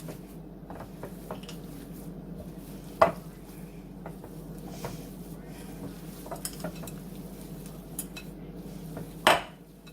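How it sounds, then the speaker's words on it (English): White chocolate cranberry sugar cookie dough is worked together in a bowl by hand, soft squishing and rubbing with occasional sharp knocks against the bowl, steady and close with no talking. "mix up the dough like this until it's mixed together"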